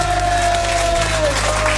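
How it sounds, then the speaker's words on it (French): A studio audience on a French talk show applauds, a short dense wash of clapping heard close and loud throughout the brief moment. "On peut t'applaudir."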